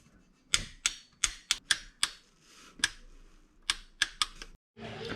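Sharp metallic ratcheting clicks come from a torque wrench snugging transmission pan bolts on a Honda CR-V with a CVT, about a dozen close, crisp ticks in irregular bursts over a quiet shop background.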